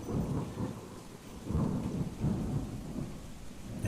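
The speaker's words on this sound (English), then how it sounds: "As you hear the thunder from outside roaring through." Rolling thunder rumbles through a steady downpour of rain during a tabletop Dungeons & Dragons session, loud swells of low thunder recurring several times over continuous rainfall, with no voices.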